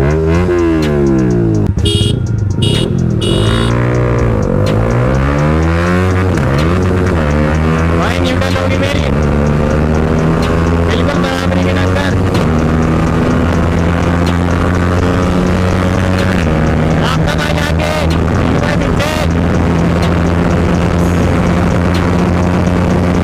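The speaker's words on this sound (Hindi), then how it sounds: "दोनों में एग्जॉस्ट लगे हैं, फुल मॉडिफाइड है। सो अभी ड्रैग करते हैं स्टार्ट।" Two fully modified Yamaha R15 V4M motorcycles with aftermarket exhausts drag racing; loud, continuous engine roar with revs sweeping up and down, then a sustained high-revving drone as they run close by.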